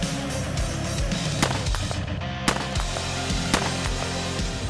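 Several sharp rifle gunshots crack out at irregular intervals, loud and close, each with a brief ringing tail over a low background, no voices.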